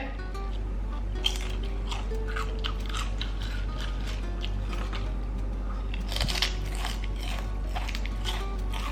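Someone eats truffle-flavoured Lay's potato chips close up, with repeated crisp crunches and chewing over a low steady hum, with no talking.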